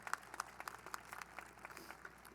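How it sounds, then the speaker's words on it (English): An audience applauds at a high school graduation ceremony: faint, distant scattered clapping that continues for a couple of seconds and thins out unevenly. "You deserve a round of applause"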